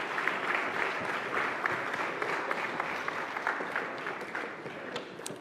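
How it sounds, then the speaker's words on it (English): An audience at a presidential private sector business forum applauds steadily for several seconds, a dense even patter of many hands clapping at moderate distance. "Can we please give one last round of applause to the President?"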